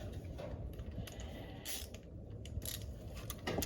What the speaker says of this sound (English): Okay, so now we just gotta tighten it up.